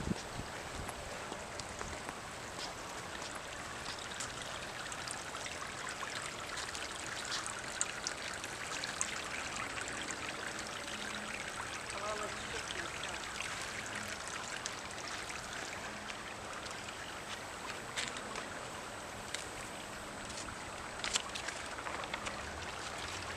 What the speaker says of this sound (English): They've got a water pond in the middle.